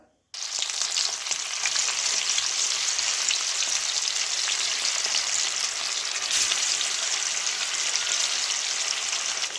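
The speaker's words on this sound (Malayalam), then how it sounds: "ഇനി ഇതിലേക്ക് നമുക്ക് ചിക്കൻ പീസ് ഇട്ട് കൊടുക്കാം" Chicken pieces fry in hot sunflower oil over a high flame, giving a loud, dense, unbroken sizzle up close that begins abruptly and holds steady throughout, with no voices.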